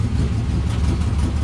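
An old car's engine runs with a leaking exhaust, a loud, steady, low rumbling drone with no break throughout.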